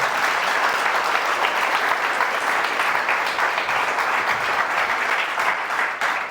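Steady, dense applause from a group, loud and continuous for several seconds without a break.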